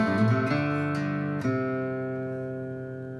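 An electric guitar plays the G lick from the intro of a song: a raked strum of several notes, then a struck chord that rings out and slowly fades, with no voice.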